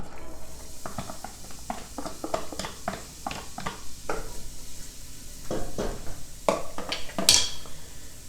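Half an onion and a shallot hit hot oil in a pan, giving a soft steady sizzle with repeated close clinks and scrapes of a utensil stirring against the pan.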